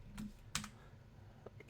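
A few scattered keystrokes on a computer keyboard as text is typed into a charting tool's text box, soft and close in a quiet room.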